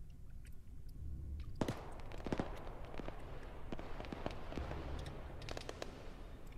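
Rapid gunfire crackling in a military video game, sharp dense bursts of shots at moderate distance starting abruptly and recurring in clusters over a low rumble.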